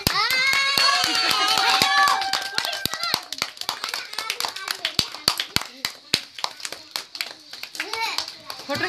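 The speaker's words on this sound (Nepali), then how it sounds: "ताली बजा" Hands clap in a loose, irregular patter at a celebration, crisp and near, following a burst of children's voices and excited talk that continues faintly beneath the claps.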